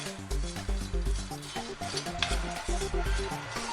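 Roasted grated coconut and dried anchovy stirred in a hot pan off the heat, a steady scraping and rustling of a spoon through the dry mixture with rhythmic knocks against the pan, close and continuous.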